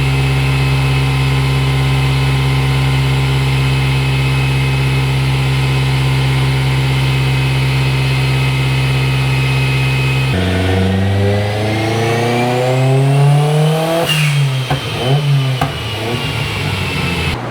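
A Mitsubishi Lancer Evolution VIII engine on a dyno drones steadily at high load on 93-octane fuel, then the pitch sweeps up and down as it revs hard and lets off, loud and close.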